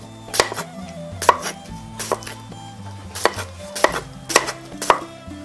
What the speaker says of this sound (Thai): เสร็จแล้วเราก็หั่นแตง